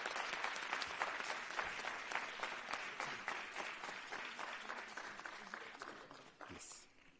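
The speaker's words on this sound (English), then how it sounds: "Let's give him a round of applause." An audience at a learner-leadership summit applauds the President, a dense, even run of clapping that holds steady and then tapers off near the end.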